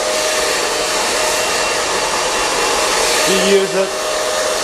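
A hair dryer blows steadily and loudly while hair is styled with a hold spray, its broadband roar running the whole time, with a brief spoken remark near the end.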